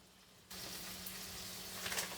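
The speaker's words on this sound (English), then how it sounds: "behind me I also have some water boiling" Water boiling in a pot on a kitchen stove, ready for a package of potato gnocchi; a steady close hiss and bubbling that swells abruptly after a quiet half-second start and continues without talk.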